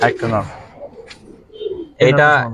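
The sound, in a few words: Giribaz pigeons cooing in a loft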